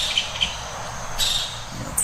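A green kingfisher in Costa Rica, a male with a red chest, gives a few faint, short high chirps spaced apart over steady outdoor ambience, with no voices.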